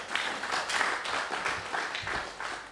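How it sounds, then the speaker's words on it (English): A brief round of applause from a book launch audience, a steady patter of many hands clapping that swells and dips slightly over a few seconds. "A round of applause for her,"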